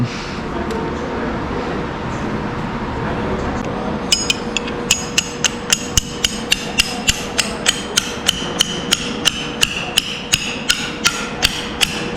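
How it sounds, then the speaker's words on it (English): A hammer strikes a chisel to knock a metal tag off a log grapple, ringing metallic taps coming in a steady, evenly spaced series over a constant background hum, close and sharp. "I gotta chisel this tag off of here."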